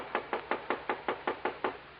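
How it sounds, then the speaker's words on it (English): Nine evenly spaced, crisp knocks on a wooden door, a radio drama sound effect in a 1950 detective story, each rap sharp and close, alone with no voices. "20 minutes passed before we heard the knock on the door."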